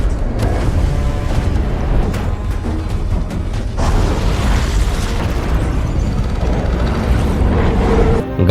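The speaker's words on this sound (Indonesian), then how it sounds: "Gara-gara ledakan tersebut membuat lubang yang sangat besar dari thermocline" A bomb planted in a deep-sea setting detonates in Meg 2, a loud, sustained rumbling blast that fills the whole stretch with dense low boom and churning roar, swelling again midway before cutting off abruptly.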